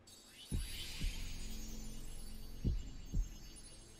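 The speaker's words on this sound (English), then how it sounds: "I'll just drown out the heartbeat noises with the loud sound of my wings flapping." Heartbeat sound effect in the video game Trials of Mana: two pairs of deep, low thumps over a steady ambient hum, each pair a quick double beat with a long pause between the pairs.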